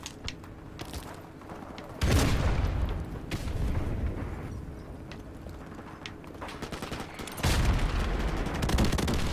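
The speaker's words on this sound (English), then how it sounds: "They already got an airstrike?" Gunfire and airstrike explosions in Call of Duty 4: Modern Warfare Remastered, with rattling shots and two heavy, booming blasts that swell and linger amid the ongoing firefight.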